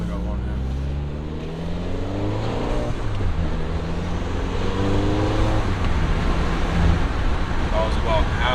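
A car with a Clutch Masters FX250 clutch pulls hard off a highway, engine tone climbing through a sustained acceleration heard from inside the cabin, with steady road and wind roar underneath.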